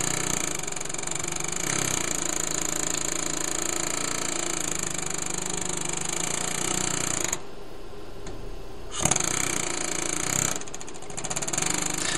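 An air hammer removing a wheel hub chatters in rapid, continuous bursts close by, stopping briefly twice before resuming its loud pneumatic rattle.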